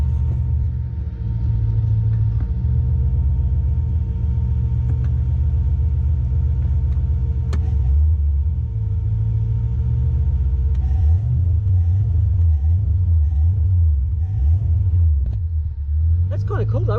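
A ute's engine on two-step launch control holds a loud, deep rumbling idle, then surges into a wavering, rhythmic rev-limited burble toward the end, close and dominant throughout.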